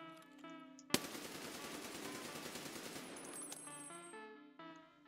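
An unsuppressed HK416 rifle in Escape from Tarkov fires while crouched: a loud, sustained burst of rapid automatic fire over about four seconds, between steady in-game ambient tones.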